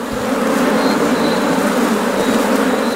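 Honey bees swarm around beehive frames during a honey harvest check, a dense continuous buzzing drone, loud and close, with no talk over it.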